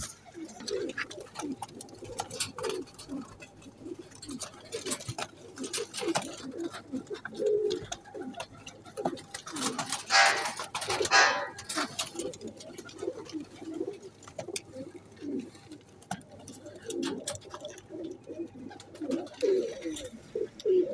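Zakh Rampuri high-flying pigeons coo repeatedly in low, throaty bursts, several birds overlapping close by, with occasional wing flutters and faint background noise.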